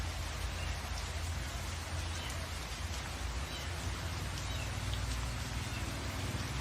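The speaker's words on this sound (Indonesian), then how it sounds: "Selama 3 hari berturut-turut terjadi hujan lebat." Steady, dense rain pours down continuously, a heavy broadband hiss with no pauses and no voices.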